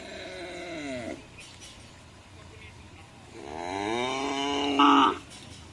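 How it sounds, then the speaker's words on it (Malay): Cattle moo twice in the open at a Madura bull race (karapan sapi) training ground in Sampang, with a long low call at the start and a louder drawn-out one near the end. "ini ada sapi yang mau dilepas"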